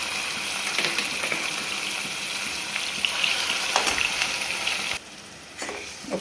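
Ground onion paste hits hot oil in a pan for masala egg curry, giving a steady, bright sizzle that runs close and continuous, with a brief drop near the end.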